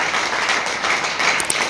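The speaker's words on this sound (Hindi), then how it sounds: "एक जोरदार ताली" A short burst of steady audience applause, dense clapping from a crowd at a talk or event, loud and continuous for under two seconds with no voices over it.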